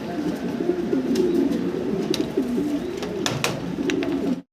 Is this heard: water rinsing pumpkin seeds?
no